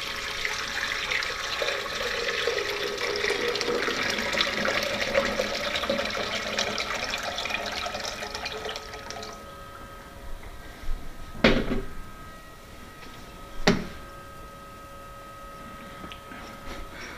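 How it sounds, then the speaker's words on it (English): Water pours steadily into a laboratory flotation machine, a loud continuous rush for about nine seconds, then stops, followed by a few sharp knocks and clatters. "Fill this up with water"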